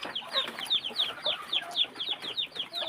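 Native village chickens cluck close by in quick, repeated short calls that rise and fall in an uneven rhythm, fairly soft and with no talk.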